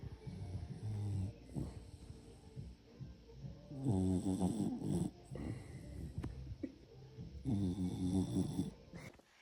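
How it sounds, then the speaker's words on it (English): A pet snores softly and steadily nearby, each slow breath rasping and wheezing in a sleepy, repeating rhythm. "Keep snoring."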